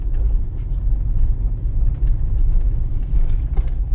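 A car engine rumbles steadily from inside the cabin while driving on a city exam route in Vinnytsia, shifting into third gear at about 35 km/h and 1500 rpm, a low continuous drone with faint mechanical clicks.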